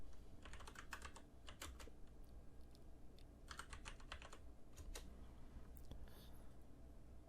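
A computer keyboard clatters as a prompt is typed, with quick runs of close, crisp key clicks broken by short pauses, continuing steadily throughout.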